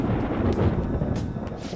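Rolling thunder in the Persona 5 Royal game, a deep, continuous low rumble with a couple of brighter crackling swells, loud and close, with no voices over it.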